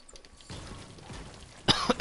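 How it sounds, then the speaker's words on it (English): A sick player coughs and clears his throat in a couple of close, harsh bursts near the end, following a quiet stretch of low room noise. "God, I hate this cough, dude."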